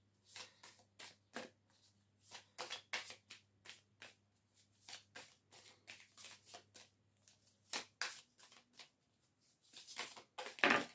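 Tarot cards being shuffled and drawn by hand in a quiet room, a rapid series of close, crisp riffles and flicks in irregular bursts with a faint steady hum underneath, no voices.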